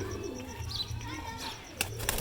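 Teddy pigeons coo softly in low, repeated throaty rolls, with a few faint chirps and brief wing flutters near the end; the sounds are close but quiet.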